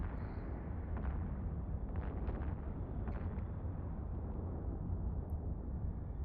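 Missile launchers firing and explosions during a frigate fight in Eve Online form a dense, steady low rumble with scattered muffled bursts throughout, loud and continuous with no talk.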